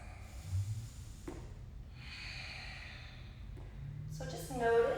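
Slow yoga breathing during a beginner power flow: a long audible inhale followed by a softer, drawn-out exhale, close and breathy, with a sharper nasal breath at the end.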